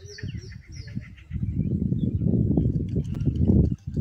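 A few bird calls chirp high above a steady low rumble of outdoor noise, faint and somewhat distant.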